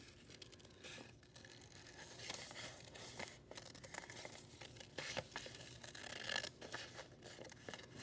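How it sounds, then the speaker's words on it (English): Scissors snip through paper, cutting out shapes along drawn lines for a children's classroom craft; a faint, steady crinkling and slicing texture with soft cuts close by and no speech. "Notice I'm just cutting out along those lines the best that I can."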